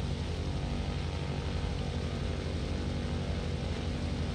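The in-game propeller engine of an F4F Wildcat built in Kerbal Space Program runs as a continuous, even drone with a low rumble and buzzing tone. It stays close and steady throughout with no talk.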